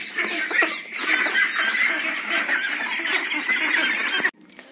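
A flock of young ducks quacks in a dense, continuous chorus of close, loud overlapping calls that cuts off abruptly near the end.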